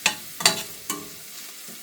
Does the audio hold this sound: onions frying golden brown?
yes